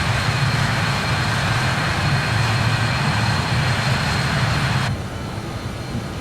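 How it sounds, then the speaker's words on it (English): BAe 146 jet airliner engines roar in flight in a flight simulator, a steady close-up drone with a high whine that drops away abruptly near the end, leaving a quieter hum. "And the airplane's still flying."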